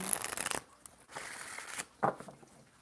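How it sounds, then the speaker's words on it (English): Tarot cards being shuffled in a few quick riffling bursts, close and fairly soft, with brief pauses between them. "Let's go ahead and shuffle."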